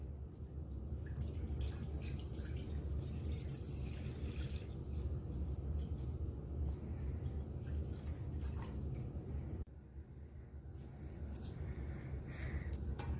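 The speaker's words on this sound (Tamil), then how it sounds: "பால் காஞ்சிடுச்சு, கொதிச்சு மேலே வருது பாருங்கள்." Milk heating to a boil in a pan, a quiet continuous bubbling and faint dripping fizz that stays steady and close throughout, with no voices.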